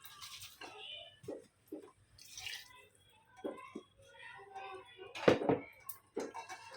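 Small splashes and trickles of water poured into frying masala in a pan while cooking chawali amti, coming in short, scattered bursts at close range with some sizzle and clatter.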